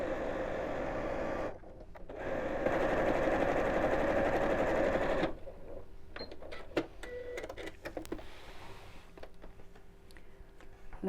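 A sewing machine stitches all the way around a half-hexagon cushion cover, running in a steady continuous whir for several seconds, then stopping and giving way to quieter clicks and handling sounds close by.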